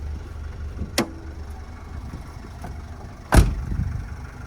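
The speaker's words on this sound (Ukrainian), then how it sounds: "От чути, робота європятого мотора." A 2013 Renault Trafic 2.0 Euro 5 diesel van engine idles quietly with a low steady rumble, broken by two short clicks or thumps, one sharper near the end.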